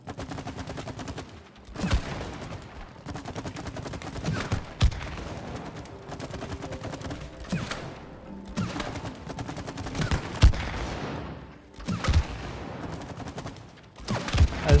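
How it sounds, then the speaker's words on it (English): Rapid bursts of gunfire ring out in a target-shooting minigame in It Takes Two. The volleys come loud and close in clustered salvos, with short pauses between them, over a continuous game backdrop. "Cody, shooting targets. This is like sophisticated just target practice"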